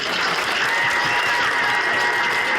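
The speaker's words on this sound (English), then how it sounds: "I think you deserve a round of applause." Wedding guests at a rugby club reception break into loud, sustained applause, a dense wash of many hands clapping continuously throughout.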